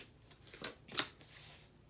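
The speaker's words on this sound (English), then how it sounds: "if you want me to shuffle again, I will." Tarot cards being shuffled give two quick, faint papery riffles close by, with quiet between them and no talking.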